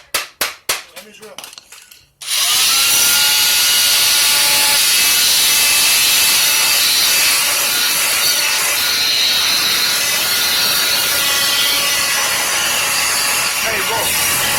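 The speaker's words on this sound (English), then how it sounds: "Let me drill." A loud, steady power tool whirs continuously after a few sharp knocks at the start, close by and unbroken for over ten seconds.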